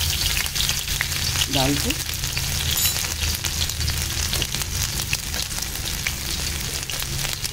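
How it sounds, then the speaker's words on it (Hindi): Green pumpkin sizzles steadily in hot oil in a kadai, a loud continuous frying hiss with stirring scrapes, while a voice briefly speaks early on. "चलिए अब तेल कढ़ाई में हरा कद्दू बना लेते हैं"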